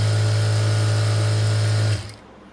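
A jack sewing machine runs a fast, steady stitching whir for about two seconds, then stops abruptly and fades into quiet.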